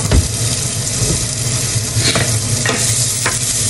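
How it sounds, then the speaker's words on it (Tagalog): Garlic and onions frying in hot cooking oil, a steady loud sizzle with a few brief stirring scrapes and clinks from a pan, no voices. "mainit na po yung mantika at ilalagay ko na po yung aking bawang at saka onions"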